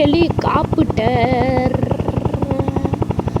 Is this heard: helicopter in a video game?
yes